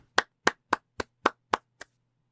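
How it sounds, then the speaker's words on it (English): Seven sharp hand claps in a steady rhythm, close and crisp, with silence after the last, softer clap. "Everybody clap your hands."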